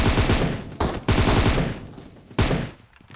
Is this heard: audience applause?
no